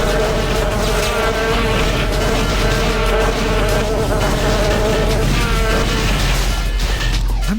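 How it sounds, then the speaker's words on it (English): Harsh, nasal electronic buzzing from a video game, like an irritating bee mixed with grinding woodshop machinery, droning loudly and continuously with wavering pitch throughout. "I'm thinking like the most annoying bee you've ever heard, plus the sound of poorly maintained woodshop equipment."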